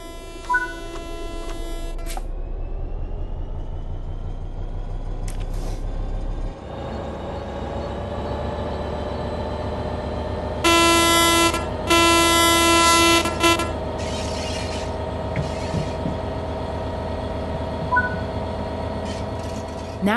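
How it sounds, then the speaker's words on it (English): A train in Train Sim World 3 on PS4 Pro pulls away under throttle, its motor whine climbing steadily in pitch over a constant rumble, with a few bursts of higher tones and clicks partway through. "Apply some throttle to get the train moving."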